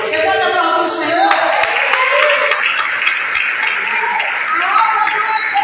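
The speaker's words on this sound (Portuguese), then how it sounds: "Você pode aplaudir o Senhor?" A church congregation in Alagoinha, Itabaiana, applauds in a loud, dense wash of clapping that blends with cheering voices and some tonal music, steady throughout.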